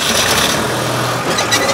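A farm tractor engine turns over and catches, settling into a low, rough rumble close by, with no speech over it.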